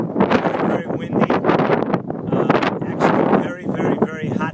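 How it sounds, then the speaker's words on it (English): Strong wind buffeting the microphone on top of Mount Gilboa in Israel, loud gusty roaring bursts that rise and fall in uneven waves, with someone talking throughout. "Very windy."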